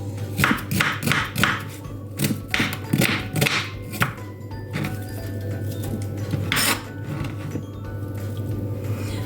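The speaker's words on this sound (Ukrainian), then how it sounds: "нарізаємо цибульку. Ось такими кусочками." Onion being cut into pieces with a knife on a board in a home kitchen, a quick run of crisp chopping strokes that slows to scattered cuts, close and clear over a steady low hum.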